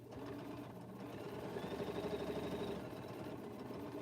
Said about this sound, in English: now I'm sewing my bag together